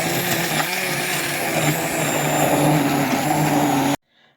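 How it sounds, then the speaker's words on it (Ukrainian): A loud electric blender whirs steadily for about four seconds mixing a liver, milk and egg batter, its motor pitch wavering slightly, then cuts off abruptly. "Блендером змішую до одної однорідності."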